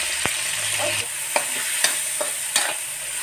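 Minced pork and golden garlic fry in a pan with a bright, steady sizzle, punctuated by a few sharp scrapes of a spatula stirring the meat.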